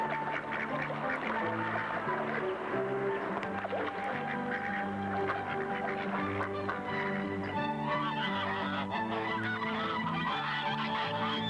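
Geese and ducks on a Taiwan poultry farm honk and quack continuously in a dense, loud chorus of many overlapping calls, with no voices over them.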